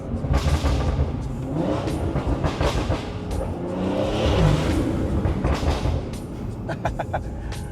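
A BMW with a B58 engine revs loudly after a downshift on a backroad drive, heard from inside the cabin as a swelling, roaring engine note that rises and falls, with a few sharp clicks near the end.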